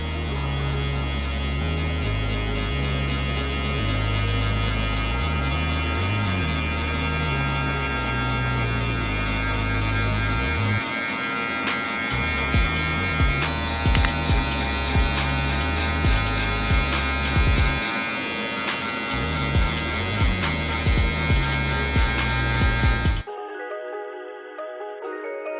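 Electric hair clippers buzz steadily and up close while cutting a drop fade with a 1-guard, lever open, a continuous mains-like hum that dips briefly in tone as the blade moves through hair, then cuts off near the end.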